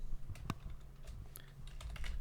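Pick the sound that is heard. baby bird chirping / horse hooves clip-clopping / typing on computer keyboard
typing on computer keyboard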